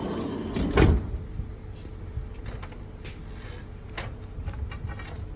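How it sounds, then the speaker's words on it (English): A Ford Transit high-roof van door slams shut with one heavy, close thud, followed by faint clicks and light rattling in a quiet space. "Let me shut this door"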